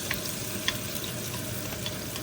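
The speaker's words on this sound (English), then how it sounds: "frying the shallot at this point until it gets golden" Shallots fry in hot oil for a Vietnamese noodle soup, giving a soft, steady sizzle with a few faint crackles and pops.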